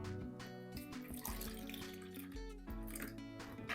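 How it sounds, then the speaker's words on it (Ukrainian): Warm water pours steadily into a bowl of salt and dry yeast for pizza dough, a close, gurgling stream with shifting pitch as it fills. "вливаю воду"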